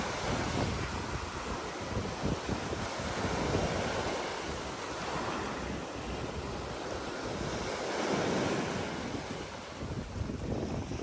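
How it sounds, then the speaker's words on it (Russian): Sea surf and wind on the shore at Liepāja, a broad continuous wash of breaking waves with gusty wind buffeting the microphone, steady and fairly loud with no voices. "Море."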